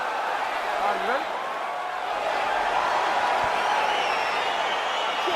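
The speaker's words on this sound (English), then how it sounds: "crowd getting excited as this fight gets underway" Arena crowd in a UFC 4 fight game, a steady roar of cheering and murmur under close commentary-style talk, with no distinct claps or peaks, holding at an even level throughout.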